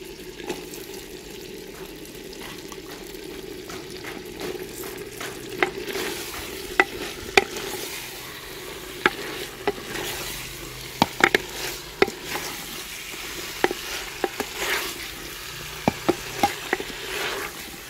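Eggplant and potatoes fry in a clay pot over a village fire. A soft, steady sizzle runs under scattered sharp clicks and scrapes of stirring, quiet and close.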